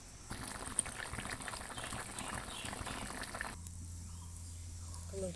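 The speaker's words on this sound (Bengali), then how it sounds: "তাই জল দিয়ে দিয়েছি এখন এটা ফুটতে দেবো" Pumpkin curry with added water boiling in a pot: a faint, continuous bubbling and simmering, quiet and close, changing partway through to a low steady hum with soft occasional pops.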